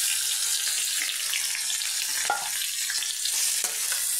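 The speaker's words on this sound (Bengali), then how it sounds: "এগুলো আমি ভেজে নিচ্ছি।" Okra, onion, corn, garlic and ginger frying in a pan for chow mein give a dense, steady hiss at close range, with an occasional faint clink of a utensil and no talking.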